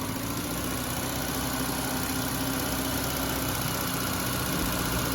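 A 2000 Honda Accord engine with a restricted exhaust and lack of power, held steady at about 2,000 RPM, giving a continuous, even drone with low rumble and no breaks for the whole stretch.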